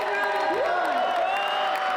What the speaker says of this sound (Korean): 객석의 환호 속에서 모든 무대가 마무리됩니다